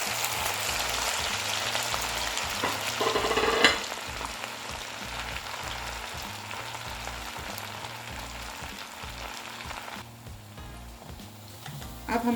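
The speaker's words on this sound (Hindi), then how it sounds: "उसके लिए हमारा ऑयल गरम है और इनको गोल्डन ब्राउन होने तक हम फ्राई करेंगे" Rice sticks deep frying in hot oil, a steady close sizzle and crackle with a brief louder burst near the start, running alone without talk.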